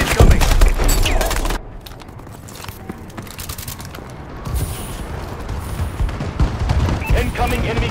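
Enemy missile strikes hit in a Call of Duty: Advanced Warfare Kill Confirmed match. A loud opening blast and rumble drop to a lower roar, then a fresh wave of booms and gunfire swells back up.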